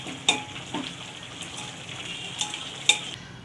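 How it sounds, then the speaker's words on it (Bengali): Hot water poured into a kadai of mutton being cooked, a steady hissing sizzle with a few sharper spits and pops, close and fairly loud, with no talk. "ঠান্ডা জল দেবো না, এই গরম জলটা দিয়ে দেবো।"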